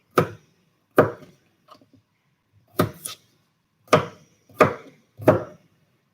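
A knife roughly chopping garlic cloves on a cutting board for falafel, six or seven sharp, separate chops about a second apart, close and clear, with no talking.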